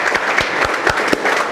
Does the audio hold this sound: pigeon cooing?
no